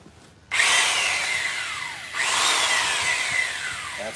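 Two short bursts of a high-pitched biscuit joiner whine as it spins up and cuts into wood for a bench top, each fading down afterward, close and fairly loud.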